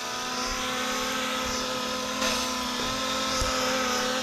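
A long Banggood RL R10 RC drone flies with a steady, loud, helicopter-like buzzing whine that holds constant throughout, with small bumps in pitch and level.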